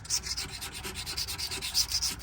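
A new razor blade scraping the surface of a Primo grill in quick, repeated rasping strokes, close and steady with no talking.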